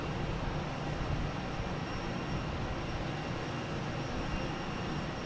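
An American Airlines Airbus A321 jet at Boston Logan Airport gives off a steady, broad engine roar, constant and fairly loud, with no break across the stretch.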